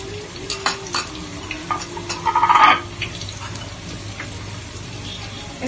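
Chicken kosha being stirred in a pan over a medium flame, with onions and salt, giving a steady sizzle broken by scraping spoon strokes and a louder burst of frying near the middle, close and clear with no talk.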